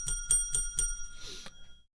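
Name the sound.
bell ringing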